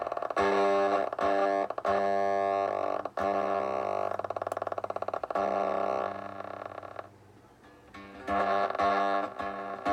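Heavily distorted cigar box guitar chords with a rod pickup through a small amp, loud and sustained, with a short quieter gap before the crunchy strumming returns.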